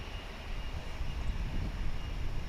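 Steady broadband roar of an American Eagle regional jet accelerating for a quick takeoff from runway 28 left at Dallas/Fort Worth International Airport, heard from a distance, continuous and even.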